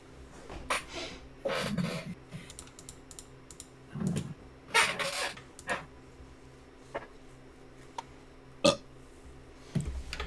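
A loud, close burp stands out among scattered keyboard typing clicks and other short bursts of noise from a live streamer at his desk.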